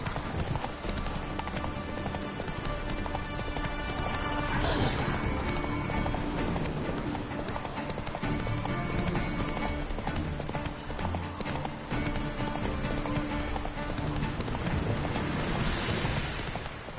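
Horse hooves clip-clopping continuously in The Witcher 3, a quick steady rhythm of hoofbeats layered with game music and ambience, with a brief whinny-like burst partway through.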